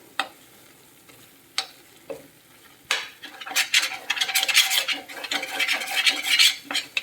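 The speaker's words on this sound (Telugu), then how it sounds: "బాగా మగ్గించుకోవాలి నూనె పచ్చడికి బాగా పట్టాలన్నమాట" Coriander and mint chutney cooking down in oil in a pan, with scattered spoon scrapes and stirring knocks early on, then a louder, steady sizzle with scraping over the last few seconds.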